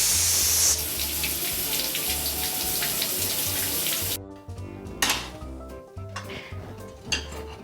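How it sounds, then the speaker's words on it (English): Freshly pressure-cooked vegetables are rinsed under a cold running kitchen tap: steady loud gushing water with a low rumble, then the flow stops and dishes and a colander clatter and rattle. "I'm going to run it under cold water immediately"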